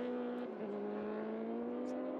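A Honda CBR 650R racing motorcycle at Interlagos circuit holds a steady engine drone, passing at a constant pitch with a brief shift midway, as a continuous mid-distance roar.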